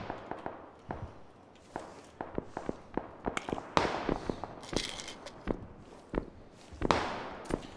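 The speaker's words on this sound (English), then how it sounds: "we're running into very close gunfire" Irregular sharp pops and cracks of gunfire in PlayerUnknown's Battlegrounds on the Miramar map, some near and some distant, scattered unevenly through the clip with no voices.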